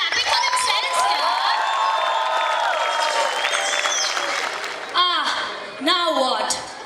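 Applause and cheering from an audience of parents and children at a school show, broad and sustained for several seconds, with whoops and shouting voices rising over it before fading near the end.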